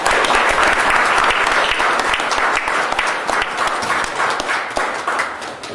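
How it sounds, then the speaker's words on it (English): Sustained applause from an audience at a Green Party event at the Malcolm X & Betty Shabazz Center, dense clapping filling the space at steady volume for the whole stretch, with no voices rising above it. "Please give him a round of applause."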